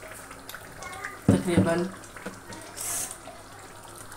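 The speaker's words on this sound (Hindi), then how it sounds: "ये देखिए मैं इसको बस इतना सा ही पानी लगाऊंगी" Water poured into a pot of seekh kebab handi gravy, a short splashing pour under a woman's speech, fairly close.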